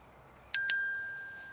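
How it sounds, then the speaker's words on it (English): A small bell set down on top of an object in a churchyard gives two quick close, bright dings in succession, followed by a clear sustained ring that slowly fades out. "I shall place the bell on top."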